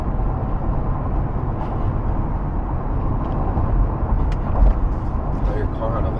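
A 2023 Mercedes G-Wagon 550 driving along a rough Alabama interstate gives a steady, loud road and engine rumble that stays fairly even, with no speech heard.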